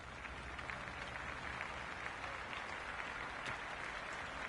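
Crowd applause and cheering at a cricket ground in the Cricket 26 video game, a steady, even wash of clapping, faint and distant, with no voices over it.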